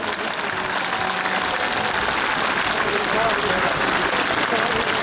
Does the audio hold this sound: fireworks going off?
no